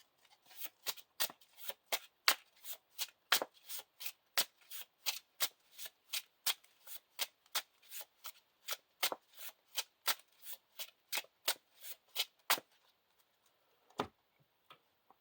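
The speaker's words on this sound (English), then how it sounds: "we can shuffle a Eagles of the North into the encounter deck" Playing cards for a Lord of the Rings card game are shuffled in a long run of quick, crisp riffling snaps, close and fairly quiet, ending in a couple of isolated taps.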